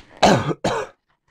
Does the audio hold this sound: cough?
yes